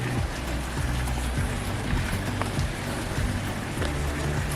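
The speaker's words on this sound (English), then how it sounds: "I'm not looking at snow, I'm looking at rain" Steady rain falls outdoors in cold mountain weather, a dense continuous hiss and patter with low rumbling underneath, with no voices.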